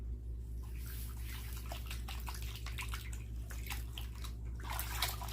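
A 1998 Furby's fur skin is worked through soapy water, giving soft wet sloshing and trickling under a steady low hum, close but quiet and with no talk.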